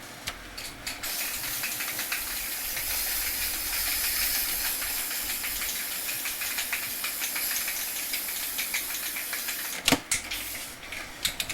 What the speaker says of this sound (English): But I'm just going to mist it from the edge.